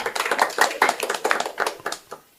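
Scattered audience clapping at a stand-up comedy show, a modest cluster of hands with an uneven rhythm that thins out and fades within a couple of seconds.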